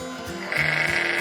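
A sheep gives one clear, close bleat that starts low and rises into a louder, wavering cry before ending, with nothing else heard.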